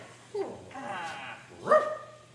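A dog gives a couple of short barks and yips close by, mixed with excited human voices calling out during play.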